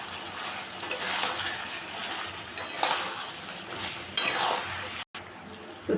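Sesame chicken is stirred in a pot with ground toasted sesame seeds, giving repeated scraping and clinking strokes of a utensil over a low sizzle. Some speech-like sounds are mixed in.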